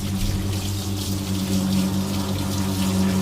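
Water streams steadily from a hose or faucet sprayer to rinse a dog during grooming, a continuous close gush with a low pump-like hum underneath and no talking.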